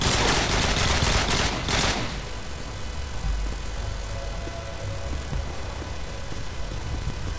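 Rapid bursts of gunfire in Call of Duty: Modern Warfare 2, loud and dense at first, then continuing as scattered shots over a rumbling engine-like background.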